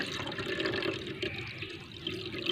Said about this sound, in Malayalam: പാൽ ഒഴിച്ചെടുത്തു.